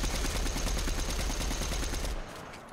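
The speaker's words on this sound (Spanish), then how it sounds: "Me están disparando de allá, me están disparando de allá" Automatic gunfire in Fortnite, a rapid steady rattle of shots at close range that runs for about two seconds and then cuts off abruptly.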